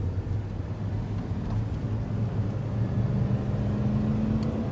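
Pickup truck on relatively new Toyo tires accelerating down a road, a low steady engine drone heard from inside that rises slightly in pitch toward the end, continuous with no talk.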